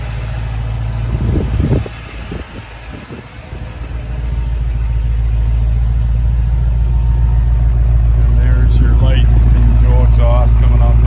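A 1966 Ford Bronco engine idles with a low, steady rumble that grows louder and fuller after a brief dip, with someone talking over it early on.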